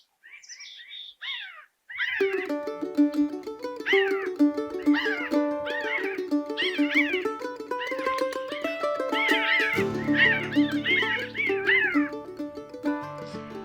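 A flock of pinyon jays calls in open pine country, a dense chorus of repeated nasal, mewing cries overlapping near and far, steady and loud throughout with no talk.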